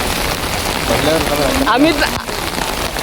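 Rain begins drumming on a metal sheet roof left uncovered, a steady dense patter close overhead, with people talking and laughing over it.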